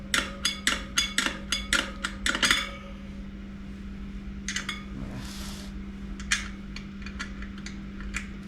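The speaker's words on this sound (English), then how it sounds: "I'm going to tighten this nut a little bit to pull the valve stem in a little closer." A wrench tightening the nut on a motorcycle tire valve stem, a quick run of sharp metallic clicks up close, then a few scattered faint clinks and scrapes.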